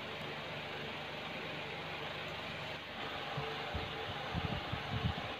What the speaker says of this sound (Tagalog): Pag maingay yung aking electric fan,